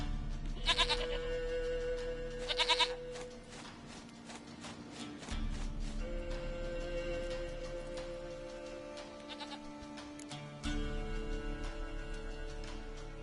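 In The Witcher 3: Wild Hunt, a goat lets out several separate bleats, each short and wavering, spaced apart over a soft game ambience with light tapping.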